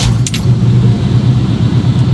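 Engine of an older used truck running steadily after starting, a loud continuous low rumble with a brief rattle near the start, no voices.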